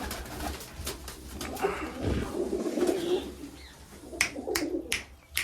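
Pigeons coo repeatedly close by in a steady, soft rhythm, with a few sharper chirps and rustles breaking in near the end.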